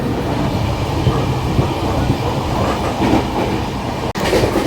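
A passenger train at a station platform on a Mumbai to Veraval route, with a steady rumble and rolling rail noise running throughout at close range, briefly cut near the end.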